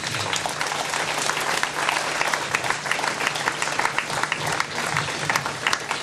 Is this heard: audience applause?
yes